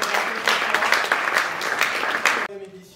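Audience applause at an award ceremony for artists, dense clapping that fills the room, then cuts off abruptly near the end as the hall quiets.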